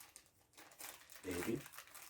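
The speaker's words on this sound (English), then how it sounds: "So we're gonna tear this open," A small plastic candy bag crinkles and tears open, a brief rustling burst followed by a louder crackle near the end, heard close and quiet with a voice speaking around it.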